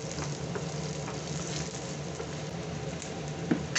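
Cut cashew nuts frying in a pan, a soft, even sizzle that holds steady with light patter and one small knock near the end.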